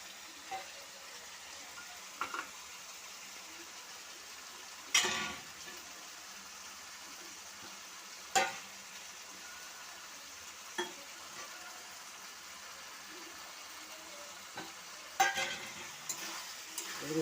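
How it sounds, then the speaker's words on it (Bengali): Cut potatoes fry in a pan with a quiet, steady sizzle, broken every few seconds by scraping stirs and clattering spatula knocks against the pan, no voices. "এগুলো সব একসঙ্গে দিয়ে একবার কষে নেব"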